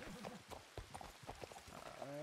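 Horse hooves clip-clop in an irregular series of close, hollow knocks in a ranch stable role-play video game, with people talking over them throughout.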